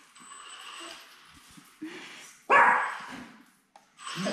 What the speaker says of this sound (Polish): Nie, nie szczekaj na niego